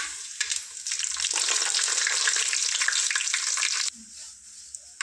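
Spices hit hot oil for tempering and sizzle loudly, a bright crackling hiss that holds steady for a few seconds before cutting off.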